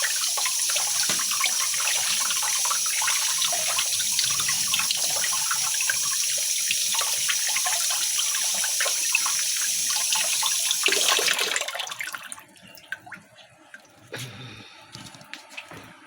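Running tap water rinsing blueberries in a kitchen sink, a steady close hiss and splash for about eleven seconds, then the flow stops and only faint drips and small clatters remain.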